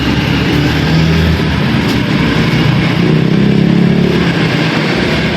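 A motorcycle engine runs loudly and steadily nearby, a constant rough drone with slight rises in pitch.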